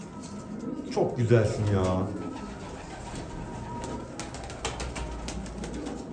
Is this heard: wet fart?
no